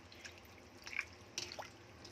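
Quiet splashes and drips of water falling into a sink as boiled pasta is drained, a few scattered trickles over a faint background hum.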